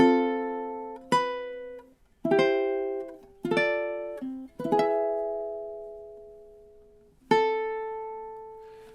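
Measures 3 and 4 of God Rest Ye Merry Gentlemen on ukulele, a slow run of about seven plucked notes with ringing decays between them, played alone and clear.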